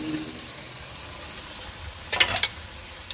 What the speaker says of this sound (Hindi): ये मसाले तड़के की जान है। इसे 1 मिनट के लिए फ्राई करके